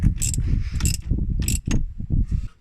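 Ratcheting and wrench clicks as bolts are tightened on a Momo steering wheel boss kit in a car interior, a close run of repeated mechanical clicks and metallic rattles in short bursts.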